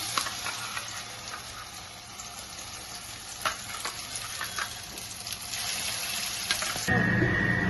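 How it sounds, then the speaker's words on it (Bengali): Bottle gourd seed paste drops into hot oil and fries with a steady, fairly loud sizzle and occasional stirring scrapes, with no voices, and a brighter hiss swells near the end. "এখন এটা ভর্তাটা আমি এসে তেলে দিয়ে দিচ্ছি"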